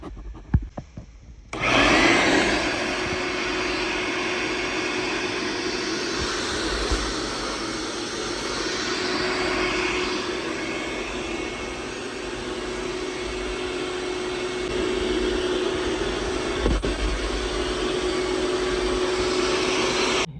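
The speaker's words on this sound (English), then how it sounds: "So now I'm going to vacuum, clean up as I go." After a few seconds of quiet handling noise, a vacuum cleaner switches on and roars steadily and loudly for the rest of the time, close by.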